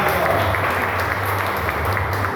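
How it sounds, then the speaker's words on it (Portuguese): Congregation clapping steadily through a church worship service, dense continuous applause filling the room at moderate loudness, with a low hum underneath. "As palmas ao meu Senhor."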